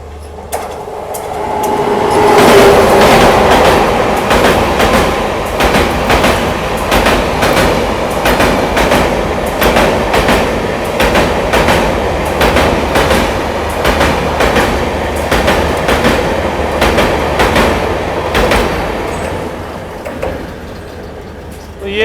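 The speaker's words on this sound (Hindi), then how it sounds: "160 kmph चलने वाली नमो भारत एक्सप्रेस बगल से निकल रही है बढ़िया स्पीड से।" A Namo Bharat Express running at about 160 km/h passes close alongside with a loud rushing roar and rapid clickety-clack of wheels over rail joints, holding steady for the whole pass.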